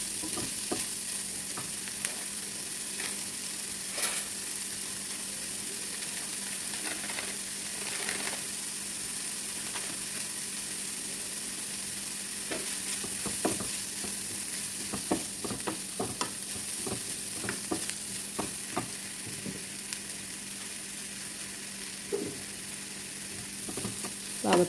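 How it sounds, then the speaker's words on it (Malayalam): Chicken being stirred in a pan with garam masala, turmeric, coriander, chilli and pepper powder, a steady loud sizzle with scraping stirs and clinks of the spoon throughout, no voices. "ഇനി ഇതിലേക്ക് ഗരം മസാല, മഞ്ഞൾപ്പൊടി, മല്ലിപ്പൊടി, മുളക് പൊടി, കുറച്ച് കുരുമുളക് പൊടിയും ചേർത്തിട്ട് ഇതൊന്ന് നന്നായി ഒന്ന് യോജിപ്പിച്ചെടുക്കാം"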